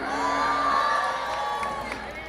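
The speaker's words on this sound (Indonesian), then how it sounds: "Tepuk tangan untuk Mbak Ika." Crowd at an outdoor concert in Madiun cheering and shouting in a loud sustained roar with whoops and raised voices, fading slightly toward the end.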